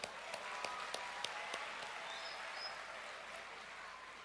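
Audience applause at a public gathering in West Java, a steady wash of many hands clapping with a few sharper individual claps, moderately distant and fairly even in level throughout.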